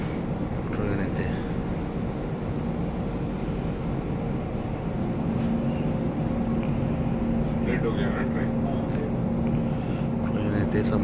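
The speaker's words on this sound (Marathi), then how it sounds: "ट्रेन येते समोरून एक." A train pulls into Khed railway station on the Konkan line, a steady low rumble and continuous engine hum filling the whole stretch with a sustained tone, moderately loud and unbroken.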